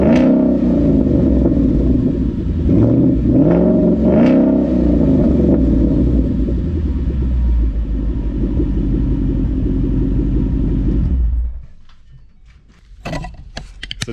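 A 2014 Mustang GT V8 with a Corsa X pipe revs loudly and close while it sits raised in the air, holding a deep, throaty drone before dropping away to near silence, followed by a few clattering knocks.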